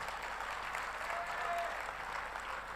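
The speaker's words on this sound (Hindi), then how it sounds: "शायद आपकी तालियां और बड़ी हों।" Sustained audience clapping fills an outdoor Hindi poetry gathering (kavi sammelan) in a small village, a dense, even wash of applause heard from within the crowd with no pauses.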